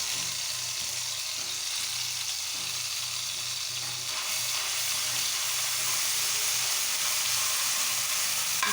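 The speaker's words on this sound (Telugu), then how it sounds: "పచ్చివాసన పోయే వరకు వేసుకున్నాం అల్లం వెల్లుల్లి పేస్ట్." Ginger garlic paste fries in a pan for a hotel-style chicken fry curry, giving a steady, close sizzling hiss that stays even and continuous throughout, with no voices.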